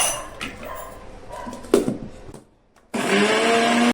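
A mixer grinder grinding garlic and cumin for drumstick-leaf chilli powder, loud whirring bursts with clinks, a brief pause of near silence, then the motor roaring back on at full strength.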